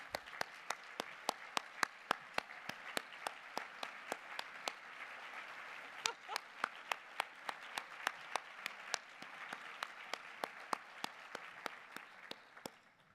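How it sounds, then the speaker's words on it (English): Audience applause at an award luncheon, a long run of distinct, crisp claps over a soft continuous patter, heard at moderate distance and steady throughout. "They deserve a round of applause from us as well."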